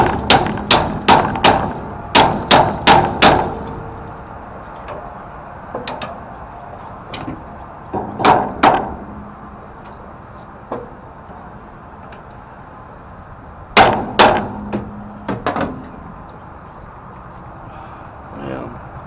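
Hammer blows strike metal to drive a stubborn bolt out, sharp ringing clanks in quick bursts of four to six with pauses between, close and loud, a few single hits scattered through the quieter gaps.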